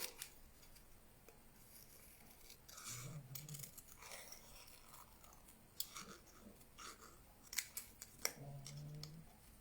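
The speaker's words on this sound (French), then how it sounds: "Donc, c'est toujours le papier qui tourne autour du ciseau." Scissors snip through paper for a pop-up greeting card, a series of soft, close, uneven crisp cuts and rustles at low volume, with no talking.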